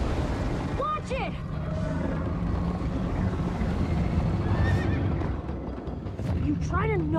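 Horse in the Minecraft Story Mode video game whinnies several times over steady hoofbeats and wind, with a loud rising neigh near the start and another toward the end, while characters talk around it.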